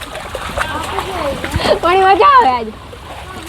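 Feet splash through rainwater during heavy rain, a wet sloshing heard under a person's close, lively talking.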